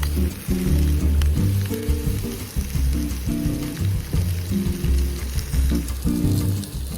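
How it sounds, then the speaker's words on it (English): Onions, peppers, sausage and Brussels sprouts frying together in a pan at a car-camping stove, a loud continuous sizzle with light crackle and occasional stirring scrapes. "With the onions, peppers, and sausage going, it's now time to add in the Brussels sprouts."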